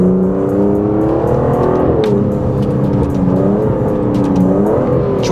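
An Aston Martin DBS Superleggera accelerates close by with a loud engine roar, its pitch climbing and dipping through gear changes and rising again over about five seconds.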